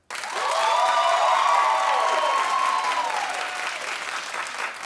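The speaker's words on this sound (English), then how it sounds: "Clap if you think Rihanna's prettier." A studio audience at a talk show breaks into loud, dense clapping with some cheering, rising quickly and holding steady throughout with voices audible beneath it.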